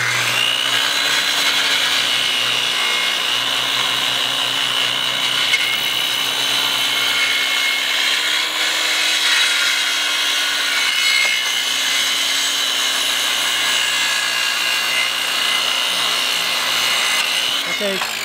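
A power saw cuts through a wooden board in one long continuous pass, loud and close with a steady whining, rasping drone from start to finish.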